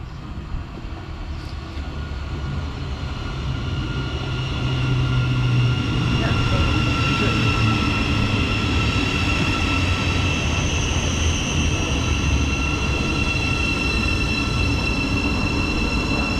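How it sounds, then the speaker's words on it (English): Passenger train pulling into a station platform on the line to Brighton via London St Pancras, a steady rail rumble that swells and holds loud for most of the stretch, with faint tonal whines above. "Just arriving now is the 1017 service to Brighton via London St Pancras"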